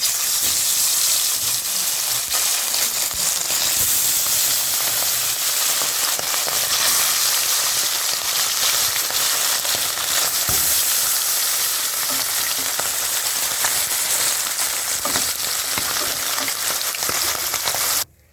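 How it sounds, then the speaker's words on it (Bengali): Loud, steady sizzle of bata fish frying in hot oil, a dense continuous crackle that holds throughout and cuts off abruptly at the end. "তেল আমার গরম হয়ে গেছে, এবার মাছগুলো আমি ভেজে নেব।"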